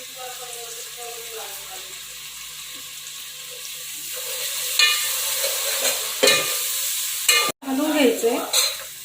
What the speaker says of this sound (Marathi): सगळं एकत्र झालं पाहिजे आणि चांगला मसाला आपला परतला गेला पाहिजे